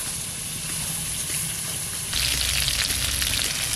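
Aar river fish frying in hot oil, a steady close sizzle that grows louder and brighter partway through, with no talking.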